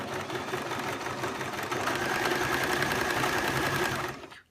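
A sewing machine runs steadily and close by, top stitching a fabric napkin with mitred corners. It hums at an even pace for about four seconds and then stops.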